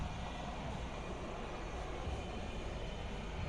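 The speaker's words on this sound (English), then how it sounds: "I'm going to let the helicopter go by first" A helicopter passing over a St. Patrick's Day parade in Savannah, heard as a steady, broad engine roar and rotor rumble filling the whole clip at moderate distance, with no talking.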